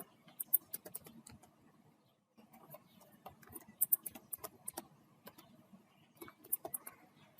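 Quiet, irregular clicking of computer keyboard keys as code is typed, bursts of keystrokes with a short pause, close and alone with no speech.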